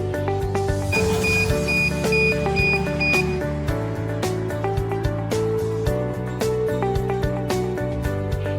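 A Geosan Precision chestnut peeling machine sounds its electronic alarm, a high tone ringing over the steady hum and rattle of the running machine, close and fairly loud.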